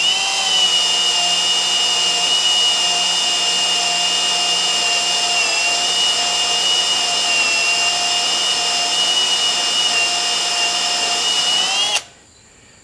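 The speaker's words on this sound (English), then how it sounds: "So I want to bust a drill bit on these easy ones first." A power drill whines steadily and loudly at a constant pitch for about twelve seconds while drilling structural steel, then cuts off abruptly.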